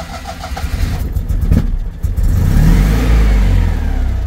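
A Citroen 2CV engine cranks and catches, then revs up into a loud, buzzy, rising drone close by.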